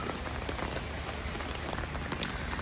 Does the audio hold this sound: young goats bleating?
no